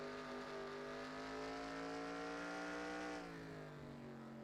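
A race car in a racing video game lifts off the throttle on the Charlotte Roval, and its engine note drops steadily from a sustained harmonic whine to a lower, fading drone. The sound is close and clear, with no talk.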